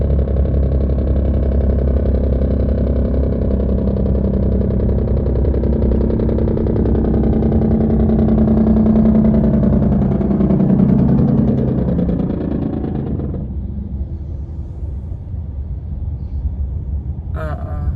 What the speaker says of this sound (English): This truck sounds like got some issues going on